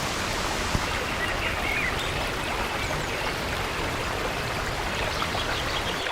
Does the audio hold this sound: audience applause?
no